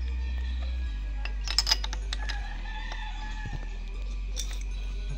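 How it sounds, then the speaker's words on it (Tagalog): A neighbor's pet rooster crows in the distance beside a steady low motor hum, with a few faint clinks; the call sounds distant and muffled rather than close. "alagang manok ng kapitbahay namin"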